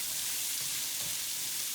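Onions and carrots sauteing in a pot, a steady close hiss of frying with no breaks, soft but constant.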